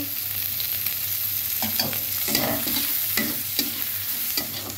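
Ghee sizzles steadily in a pan for prawn rice while a spoon scrapes and stirs at intervals, each stroke a soft clatter over the frying hiss, close and fairly quiet.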